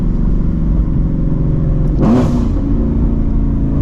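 A 2016–2018 Ford Shelby GT350's 5.2-liter Voodoo V8 runs loud and steady throughout, with one sharp rev swelling briefly near the middle before settling back to a rumbling idle.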